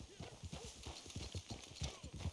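Horse hooves clip-clopping in the Red Dead video game, a steady trotting rhythm of repeated hollow clops, fairly close, over a soft bed of ambient noise.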